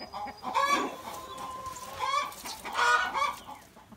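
A rooster and chickens cluck on a homestead, several short clucking calls in uneven bursts, fairly faint against a quiet outdoor background.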